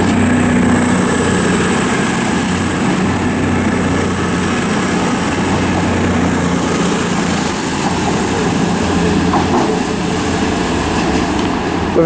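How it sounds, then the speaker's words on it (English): Cross-country passenger train service from Bournemouth to Manchester Piccadilly departing Southampton Central station, a steady loud rumble of engine and rolling wagons with a high whine, continuous throughout with no talk. "departing now is the 1317 cross-country service from Bournemouth to Manchester Piccadilly."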